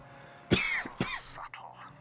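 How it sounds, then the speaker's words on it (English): A person coughs twice in close succession, harsh and near, followed by a brief throat-clearing rasp, with no talk over it. "I'll start muting my mic soon for my horrible coughs"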